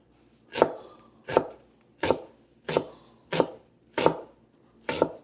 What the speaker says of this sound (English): slice these up into little half moons or semicircles